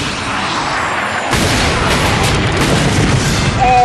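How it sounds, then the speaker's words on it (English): A Devastator rocket launcher fires in the Ratchet and Clank video game, giving a sudden loud boom that rolls into a sustained, noisy blast and rumble lasting several seconds. "try to hit, hold on, that target with the Devastator, a rocket launcher designed for Ratchet and Clank"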